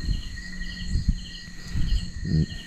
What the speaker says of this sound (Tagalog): Puro kuliglig.